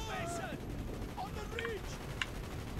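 Gunfire crackles in Call of Duty: Black Ops during a jungle firefight, with a few faint, scattered shots and one sharp crack behind radio-style talk and game effects.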